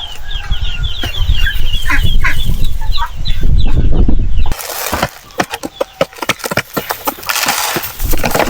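Heritage chickens on a small farm cluck and squawk up close, loud and busy at first, then give way to a run of sharp clattering knocks and scrapes.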